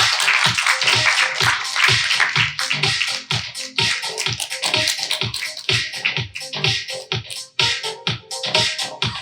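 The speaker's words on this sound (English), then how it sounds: "Give him a big round of applause as he walks out." Audience applause at an evening marketing conference in Asia as a panelist walks on stage: a run of sharp, evenly spaced claps in a steady rhythm, close and fairly loud, with a denser wash of clapping behind them.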